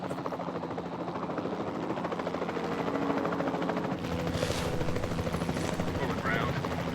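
Helicopter in the video game Jurassic World Evolution 2, a steady rotor drone running continuously under sporadic gunfire-like bursts and game effects.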